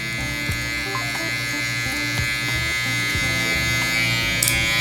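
Electric hair clippers blending a taper fade into a 1.5 guard length, a steady close buzzing hum with small shifts as the blade moves through hair, no talking.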